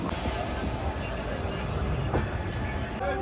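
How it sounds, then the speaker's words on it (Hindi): The Magadh Express, Delhi to Islampur, rolls along the rails after a station hold, a steady close rumble and rattle of carriages with a faint voice underneath. "ट्रेन अपने टाइमिंग पे पूरे 10 मिनट के होल्ड के बाद चल पड़ी है"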